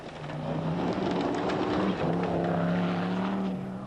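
A rally car engine with a turbo problem at the 1993 Perth Scottish Rally runs as a continuous droning roar, its pitch dipping briefly midway before holding steady again.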